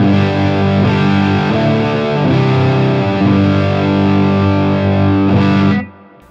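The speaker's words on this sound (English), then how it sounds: "So let me add distortion to that." Electric guitar played through an OCD overdrive pedal with the gain turned up, a thick, loud distorted chord ringing steadily before cutting off abruptly at the end.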